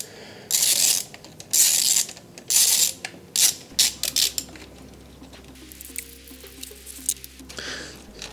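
A ratchet undoes the hydraulic steering reservoir holder on an engine, giving bursts of loud close clicking that turn into quicker, lighter ratcheting with a low hum under the later part.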